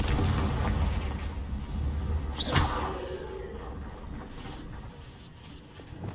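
A Confringo spell blast goes off in a Harry Potter video game, a sharp burst rising out of windy ambient rumble around the middle and then fading back into steady background noise.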